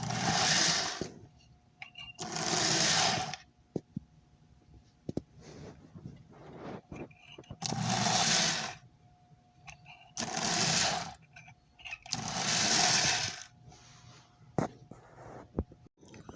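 Repowered Marx #629 K-4 Torpedo toy train engine motor running on the bench, a fairly quiet whirring hum that comes and goes in several bursts of a second or two, with clicks and handling noise between.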